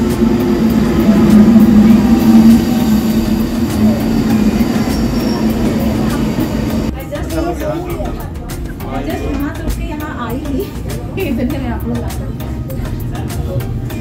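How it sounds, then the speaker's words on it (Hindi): Luzern-Engelberg Express train arriving at a Swiss station: a loud, steady low rumble with a tonal hum for the first half, then rattling, clattering wheel and carriage noise as it pulls in, with people talking over it. "ये आ गई आपकी ल्यूजन एंगलबर्ग एक्सप्रेस।"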